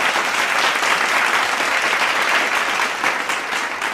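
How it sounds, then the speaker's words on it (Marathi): Dense, sustained applause from a sizable crowd at a cricket match after six sixes, loud and even for the whole stretch, with no pauses. "बघा किती टाळ्या वाजतात, टाळ्या पडतात या प्रसंगासाठी"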